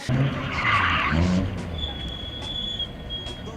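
A Westfield car skids while spinning in circles, giving a loud, sustained tyre screech in the first half that fades into engine and road noise with a high tonal whine.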